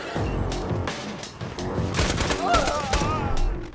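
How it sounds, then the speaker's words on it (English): Rapid gunfire from the Borderlands 2 video game, with sniper rifle shots cracking in quick, loud succession among dense bursts of battle noise and explosions, a player's voice heard faintly underneath. "Kinda don't like this sniper rifle."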